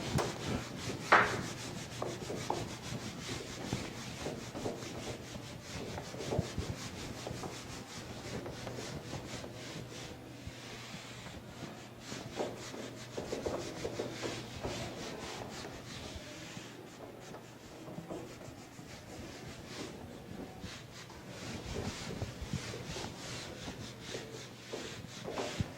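Sustained rubbing of a board clean during a maths lesson, a continuous soft scrubbing texture with slight surges that runs the whole time, close and moderately loud, with no talking over it.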